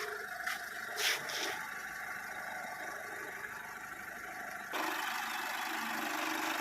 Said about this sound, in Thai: อันนี้คือสตาร์ทเครื่องไว้แล้วเด้อค่ะพี่น้อง